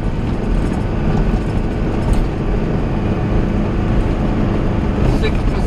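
Vehicle driving down a steep 7-kilometre hill, heard from inside as a loud, steady engine and road rumble that continues without a break.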